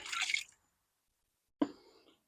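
Dirty water dripping out of an old 1968 Ford F100 gas tank, a short splash followed by silence, then a single sharp drip landing close by.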